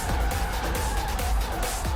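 In FR Legends, a Honda Jazz drifts with a loud, sustained engine roar and skidding tire hiss that hold steady and close throughout, filling the moment without any voices.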